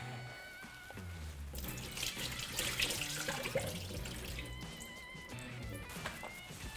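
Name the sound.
draining pickle juice off turkey pieces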